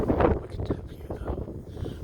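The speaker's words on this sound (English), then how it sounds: "The wind's so bad it's 20, 30 miles an hour with gusts hitting probably 35" Strong, gusting wind buffets an open microphone outdoors beside a Blackstone griddle, a continuous low rumbling roar that swells and eases without a break.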